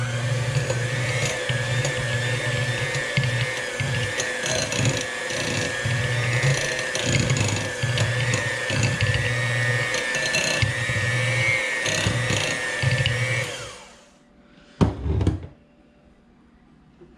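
An electric mixer beats room temperature butter for cookies with a loud, close, steady motorized whir and rattling thumps for about fourteen seconds, then stops, followed by a couple of brief knocks.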